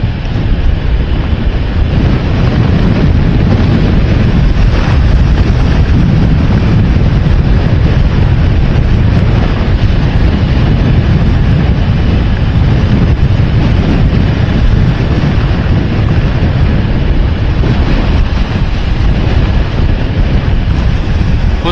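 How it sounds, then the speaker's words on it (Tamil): Strong gusting wind roars over a moving Honda motorbike on a coastal road near windmills, a loud, continuous buffeting rush that fills the whole stretch with no break. "காற்று ரொம்ப ஓவராக இருக்குங்க"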